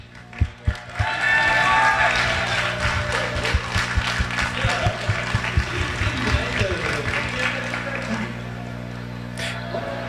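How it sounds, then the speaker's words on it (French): Audience at Stunfest 2013 claps and cheers for a player about to run Mushihimesama Futari, starting with a few sharp claps that swell into sustained applause over a steady low hum, fading after about eight seconds. "Applaudissez très fort, Nak!"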